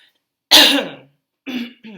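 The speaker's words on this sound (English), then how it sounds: "me clearing my throat" A harsh throat clearing bursts out, followed by two shorter, softer throat-clearing grunts, close and alone in a quiet room.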